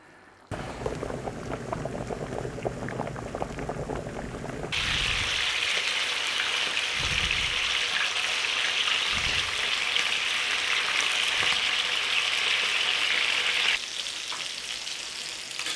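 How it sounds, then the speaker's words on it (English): Sausages for a bangers and mash pie fry in a hot pan with a loud, continuous crackling sizzle. The sizzle swells sharply as they are turned over, with a few soft clunks of the pan. No one speaks. "Just turn them over, they will cook all the way around, they will plump up"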